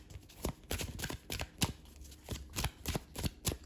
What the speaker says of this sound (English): I'm gonna just pull the rest of the cards out and we'll start channeling some messages.